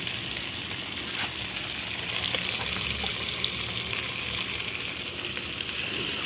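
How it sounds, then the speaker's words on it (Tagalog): Water splashing and pouring steadily into a pot where native chicken pieces were sizzling in oil for tinola, a continuous bright wash with faint frying hiss underneath, close and fairly loud throughout. "Ngayon, lalagay natin ng tubig yan."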